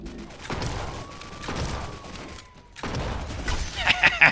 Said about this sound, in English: I killed him with the explosion!